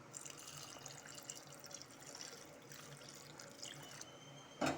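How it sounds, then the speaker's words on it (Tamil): Water poured into a pot of mashed tiffin sambar for idli, a steady close splashing and trickling stream that ends with a brief louder clatter. "இப்போ என்ன பண்ண போகிறோம்னா இதோட தண்ணி சேர்க்கலாம்"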